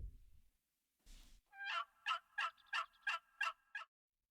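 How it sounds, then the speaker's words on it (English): Wild turkey gobbler in a bow-hunting video game set in Colorado mountains, giving a rapid gobble of about seven sharp, evenly spaced pulses, clear and fairly close, after a brief rustle. "There is another gobbler."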